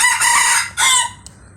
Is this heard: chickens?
yes